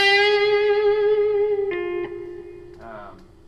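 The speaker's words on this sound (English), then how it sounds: "bend until the tone reaches a whole step above it, or a half step" An electric guitar note bends upward by a small interval and sustains with a bright, effected tone, followed by a couple of quick picked notes.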